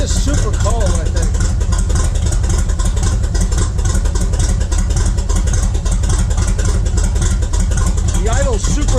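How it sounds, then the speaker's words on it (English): A cold engine fitted with an 8-stack EFI setup idles low with a loud, steady, throbbing rumble that stays close throughout, while people talk over it. "The idle's super low."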